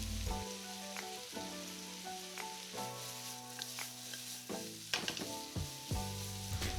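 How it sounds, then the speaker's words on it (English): Carrots, onions and red pepper stir-fry in a pan for Korean japchae. A steady close sizzle runs under background music, with occasional stirring scrapes. "Carrots are halfway cooked, then I put onions. And then I put red pepper."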